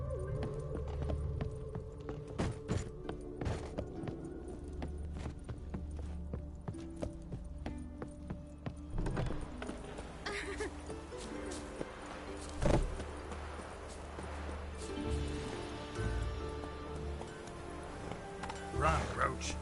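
Roach the horse gallops in The Witcher 3, hooves clip-clopping in a steady rhythm throughout, close and fairly loud amid game sounds.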